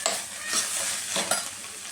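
Spiny gourd (akora) frying in a pan while being stirred, a continuous bright sizzle with a few rhythmic spatula scrapes, close and moderately loud.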